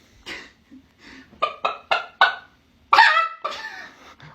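A man mimics a chicken with his voice, giving a string of short, sharp clucks and then a louder, drawn-out squawk at the end, close and clear with nothing else behind it.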